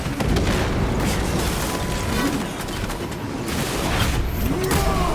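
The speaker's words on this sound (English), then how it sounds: "Using crack grenade." Crack grenade detonation in Space Marine II, a dense, loud booming roar of blasts and crackling debris sustained over several seconds amid constant battle noise.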